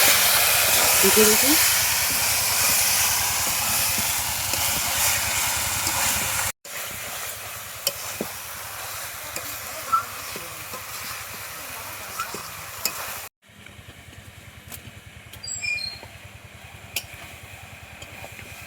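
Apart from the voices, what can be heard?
meat being added and fried in hot oil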